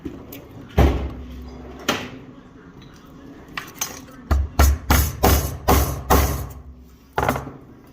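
A metal tool drawer of sockets slides open in a shop during sheet metal rust repair, then loose steel sockets clatter and clank as a hand rummages through them, a quick run of sharp close metallic rattles with a few thuds.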